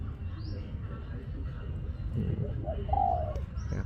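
Soft, low cooing of a dove, brief and fairly close, with faint background noise and a higher chirp near the end.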